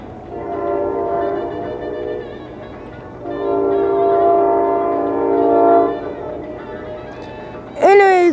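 A CSX work train passes at Point of Rocks, Maryland, with two long sustained horn blasts at moderate distance over low rumbling, and a short rising horn-like burst at the end.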